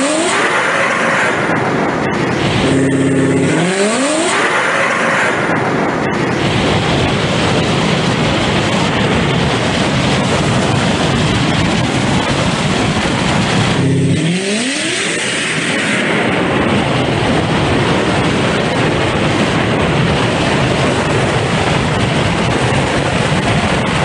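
Drag race on a quarter-mile dragstrip between a Toyota Corolla with a 350 engine swap and a Tesla, a loud continuous engine roar at launch and full throttle, with revving surges and gear changes, close to the track.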